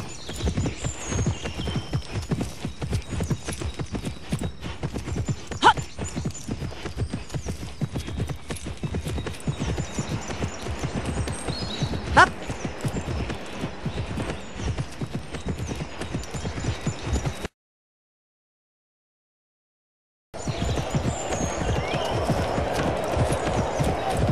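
A horse gallops in the video game Imagine Champion Rider with rapid, steady clip-clop hoofbeats, a couple of sharp clicks and a brief whinny, broken by a short silent gap before the galloping resumes.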